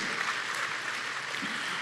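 Audience applause in a Korean seminar hall before a speaker is introduced, a steady, dense wash of many hands clapping at once, sustained and even for its whole length with no voices over it.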